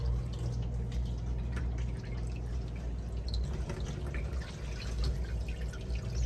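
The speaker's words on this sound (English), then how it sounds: "A couple drips here." Water drips from a leak around a door, a sparse scatter of small drips and trickles over a low, steady background hum, fairly quiet and with no one talking.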